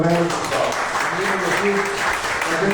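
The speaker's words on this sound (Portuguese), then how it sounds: "Salve de palmas para os colegas" A class applauds fellow students during a financial controllership lecture, a steady wash of clapping running the full clip with voices talking over it.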